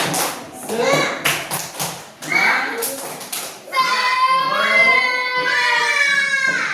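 Children clap a rhythmic spirit-clap routine (tepuk semangat) in a classroom, sharp grouped claps in a patterned beat, followed by the children chanting together loudly and close.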